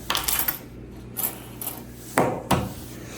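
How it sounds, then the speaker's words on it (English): Keys are set down on a hard surface, making a few short metallic clinks and taps spread over a few seconds. They are close and fairly quiet, with no talking. "So now I officially set my keys."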